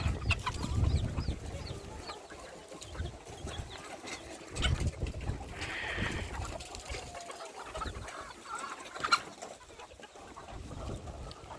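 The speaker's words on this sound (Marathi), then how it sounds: "तर ह्या आपल्या फार्मवरती कोंबड्या आहेत" Free-range country chickens on a poultry farm cluck and murmur at moderate distance, irregular soft clucks and rustling with a few louder calls scattered across the stretch, over a low background hum.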